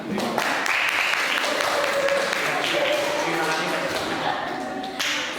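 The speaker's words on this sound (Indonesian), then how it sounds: "kelompok 4 kita beri tepuk tangan" Classroom applause for a student group, a modest patter of clapping from a small audience with a voice talking over it.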